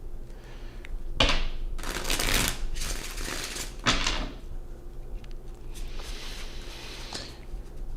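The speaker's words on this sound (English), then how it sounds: "let's do one more shuffle." Several bursts of tarot cards being riffled and shuffled, crisp rustling flurries separated by brief pauses, recorded up close with no talking.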